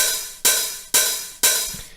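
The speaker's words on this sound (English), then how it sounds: "we're going to hear pattern 2, which is the open hat. So that sounds like this." Open hi-hat hits ring out in a steady pattern, four crisp metallic strikes evenly spaced, each hissing and decaying before the next.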